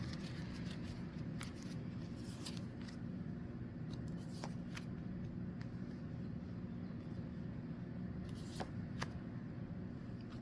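Oracle card deck being cut and shuffled by hand, soft papery riffles and taps coming in scattered bursts over a steady low background hum, quiet and close.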